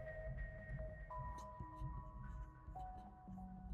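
Sine wave tones from a Serum 2 synth patch, quiet sustained pure notes that step between pitches in a slow melodic line over a soft low hum.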